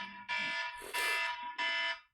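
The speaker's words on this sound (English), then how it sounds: "What's my alarm?" An alarm blares in three long, loud, buzzing tones with short gaps between them, heard up close with no talking.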